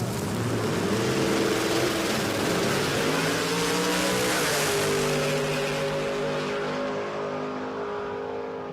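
A no-prep drag race car making a full pass at a live drag racing event, engine roaring loud and steady with rising gear pitch, then slowly fading as it pulls away.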